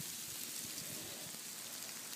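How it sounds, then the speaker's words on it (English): Small hail pellets and large snowflakes falling and striking the ground outdoors in Virginia, a steady dense pattering hiss with no voices. "There's the little pieces of hail and the big pieces of snow."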